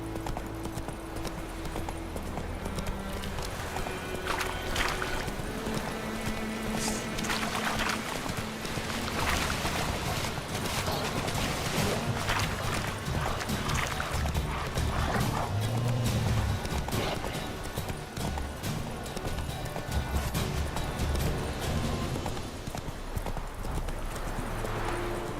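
Horse Roach galloping in The Witcher 3, a fast, continuous clip-clop of hooves close up, with occasional snorts and ambient outdoor noise throughout.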